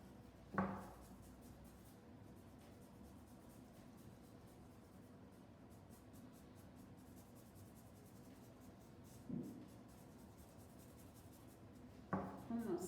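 A permanent marker scratches on a scarf in a soft, steady rubbing near the mic, with a few louder taps and scuffs at intervals.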